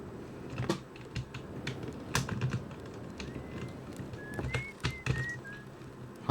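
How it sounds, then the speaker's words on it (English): A short whistled melody from a character in the space exploration game Outer Wilds: a few thin sliding tones, faint and mid-distance, over steady clicking of computer keys and a soft ambient background. "Was that you whistling?"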